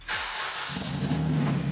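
Turbocharged Honda Integra with a bespoke titanium exhaust starting for the first time: a quick cranking whir, then the engine catches into a rough, rumbling idle close by.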